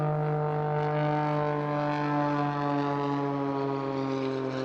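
Steady, loud drone of a Pitts S-2S aerobatic biplane's 6-cylinder, 8.5-litre, 300-horsepower piston engine, a strongly harmonic buzz held at a constant pitch for several seconds during a display flight.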